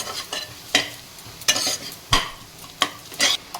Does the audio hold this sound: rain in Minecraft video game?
no